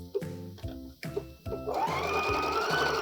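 A sewing machine stitching the side seam of an upcycled blazer, starting with a few short, separate bursts of stitching and then running into one steady, continuous whir, close and fairly quiet.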